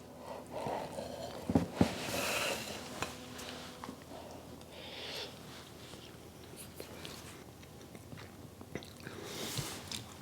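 Close, soft chewing of a forkful of layered meat and cheese with green chili, moist mouth sounds rising and falling alone for several seconds.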